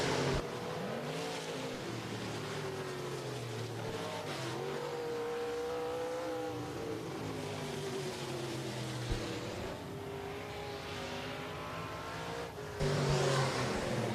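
USRA stock cars racing at Rapid Speedway, a dirt track: several engines roar and rise and fall in pitch continuously as the cars pass, a dense, steady racing din.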